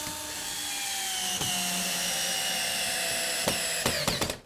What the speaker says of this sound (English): I'm going to attach these together with some 3-inch screws